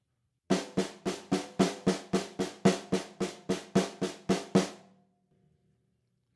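A basic rock fill on a four-piece drum kit: sixteen evenly spaced strokes alternating right and left hands in a steady sixteenth-note run, loud and close, ending in a short ring-out and silence.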